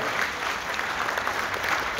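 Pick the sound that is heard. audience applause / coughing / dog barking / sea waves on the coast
audience applause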